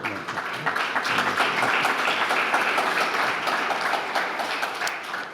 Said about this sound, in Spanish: este aplauso espontáneo